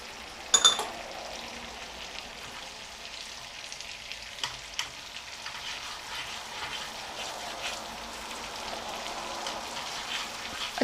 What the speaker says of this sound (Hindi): अच्छे से ज़ीरे को और पुदीने को इसमें फ्राई कर लेते हैं।